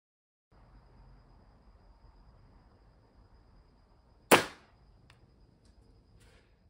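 An overpowered Nerf gun fires a foam dart as a single sharp, loud pop against quiet room noise, followed by a couple of faint clicks.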